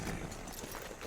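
Horse hooves clopping steadily at close range in Red Dead Redemption 2, a continuous dense patter of footfalls and movement under a broad noisy bed of game sound.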